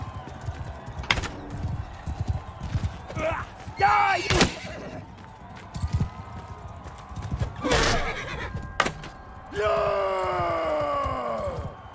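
Horse hooves clip-clop in a tournament fight in the video game Mount and Blade II: Bannerlord, with loud whinnies and neighs and combat noise mixed among the galloping beats.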